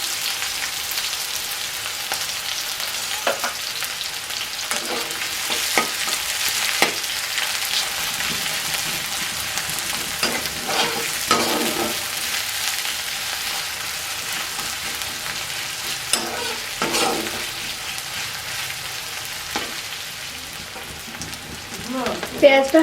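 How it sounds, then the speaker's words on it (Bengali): Chopped onions sizzle in hot oil in a wok, giving a steady, loud frying hiss with a few stirring scrapes and clatters throughout. "এর মধ্যে দিয়ে দিলাম পেঁয়াজ কুচি"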